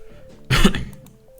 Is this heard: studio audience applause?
no